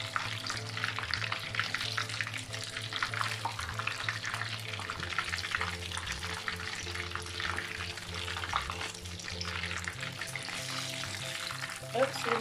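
Pineapple beignets frying in hot oil: a steady, dense sizzle and crackle running throughout at close range, with faint background noise.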